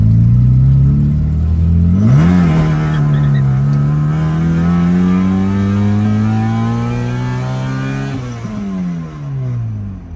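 A track car's engine starts and revs up and down close by, then holds a long, loud, steady rise in pitch before dropping back.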